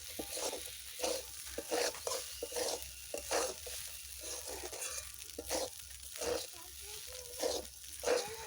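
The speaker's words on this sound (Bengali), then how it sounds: "লেবুর রসটা দিয়ে দিয়েছি, দিয়ে একটু নেড়ে এবার নামিয়ে নেব।" Poha stirred in a pan after lemon juice is added, with repeated soft scraping strokes in a steady rhythm over a faint sizzle, close and fairly quiet.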